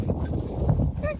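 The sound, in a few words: dog whining from excitement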